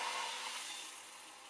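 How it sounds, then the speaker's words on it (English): A blow dryer blows hot air steadily onto CPU thermal paste during a Ryzen 5 5600 upgrade, a broad airy hiss that holds close and loud and then fades slightly toward the end, with no talking. "So I'm going to use the blow dryer to try and heat it up."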